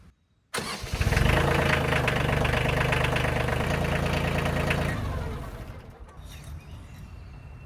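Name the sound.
Kioti tractor engine idling after start-up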